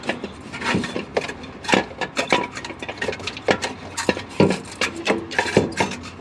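Original downpipe being wiggled out from under a BMW M135i after its bracket is removed, giving irregular metallic scrapes, knocks and rubbing clunks in close, uneven bursts with no talking.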